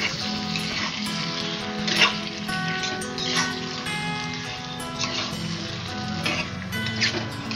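Chicken pieces fry in hot oil with onion and garlic, giving a soft, steady sizzle with scattered small pops and faint stirring, heard close and fairly quiet throughout.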